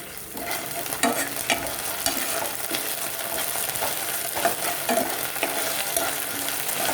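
Ginger garlic paste sautés with browned onions in a kadai for a restaurant-style veg kadai, a loud continuous sizzle with frequent scraping stirs.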